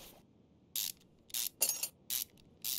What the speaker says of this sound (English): Let's pull off this brake caliper, however.